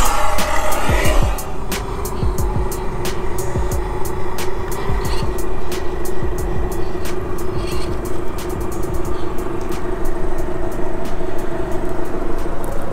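Holmes Hobby brushed motor driving a Traxxas TRX4 Bronco RC truck gives off a loud, constant electric whine, layered with close crunching and ticking as the truck crawls over rough ground.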